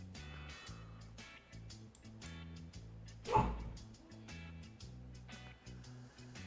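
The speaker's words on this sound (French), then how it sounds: "Désolé les gars, la chienne." A female dog barks once, loud and close, during an otherwise quiet stretch of background music while someone plays a Pokémon card game online.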